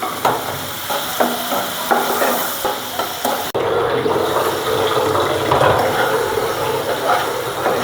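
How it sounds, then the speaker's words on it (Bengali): Ground spices with turmeric, coriander and salt fry and are stirred in hot oil with pabda fish and potatoes, a steady loud sizzle with repeated scraping strokes, briefly dipping midway before the frying resumes. "আমি দিয়ে সব মশলাটা ভালোভাবে কষাই নেব"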